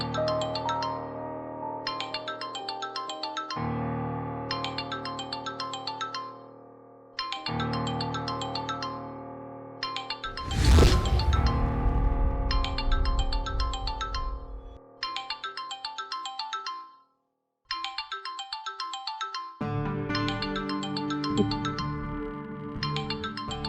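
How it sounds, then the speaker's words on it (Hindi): A phone ringtone plays in repeated melodic bursts with short gaps, a loud dramatic whoosh cutting in midway before the ringing resumes. "देखो, इंस्पेक्टर का फोन आ रहा है।"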